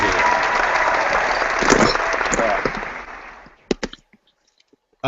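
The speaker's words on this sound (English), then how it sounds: "I want to give a quick round of applause to the families of the Snapchatters who support us" A round of applause for supporters' families rises near and full, then thins out with a few last claps before falling nearly silent.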